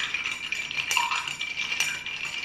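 Bar spoon stirring ice in a mixing glass to chill an Amaro Manhattan cocktail, a continuous close clinking and rattling with a few sharper clicks.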